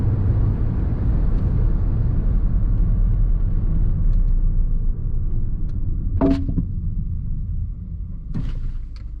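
A Maruti Brezza ZXi petrol car on the road with its five-speed gearbox and non-ABS brakes gives a loud, close low engine and road rumble that eases off as it slows, followed by a couple of brief knocks near the end.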